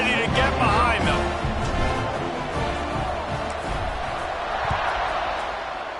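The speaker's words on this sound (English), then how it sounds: "this crowd now ready to get behind them" A stadium crowd roars steadily at kickoff in a college football video game against Delaware, a dense continuous wash of cheering that fills the whole stretch at even loudness, with a commentator's voice running over it.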